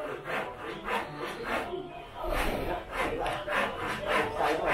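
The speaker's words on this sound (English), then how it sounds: "trimming all the edge of the awning" Roof sheeting is trimmed along the edge of an awning on a budget bungalow build in the Philippines, giving repeated rhythmic rasping, scraping cuts at moderate distance; no one speaks.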